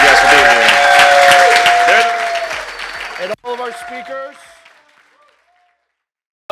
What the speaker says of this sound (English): a big round of applause for Blake and the First Boutique Hotel Con